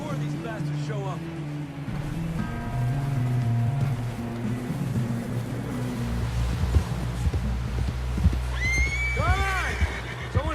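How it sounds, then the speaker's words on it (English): In the video game Red Dead Redemption 2, a horse whinnies loudly near the end after a run of hoof clip-clops, with an engine-like drone and a voice heard earlier on. "Someone help John down off this horse."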